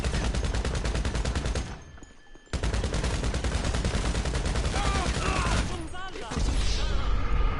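Rapid gunfire in a nightclub shootout video game, dense bursts of automatic shots that break off briefly and then resume, loud, with a voice talking over parts of it.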